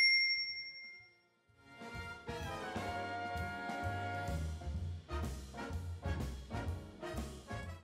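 A bright notification bell dings near the start, after which a busy musical background with strong rhythmic hits plays on for several seconds.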